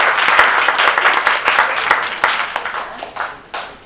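Audience round of applause after a skit at a youth gathering: loud, close hand-clapping with sharp individual claps standing out, gradually thinning and fading toward the end.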